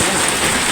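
Heavy rain pours down steadily in a rural province setting, a dense, loud, unbroken hiss of drops close by.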